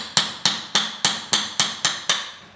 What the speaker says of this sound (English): So here I'm just removing the little blocks holding this cleat down.